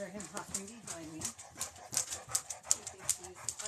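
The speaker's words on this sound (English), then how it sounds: "He becomes the aggressively panting dog." A dog panting heavily and aggressively close by, a rapid rhythmic series of breathy huffs with a brief whimper, while a person talks over the start.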